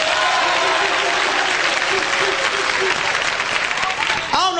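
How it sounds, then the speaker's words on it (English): A comedy show crowd claps loudly and continuously, a thick wash of applause with scattered voices, ending with a brief shout from the audience. "If you don't give a fuck,"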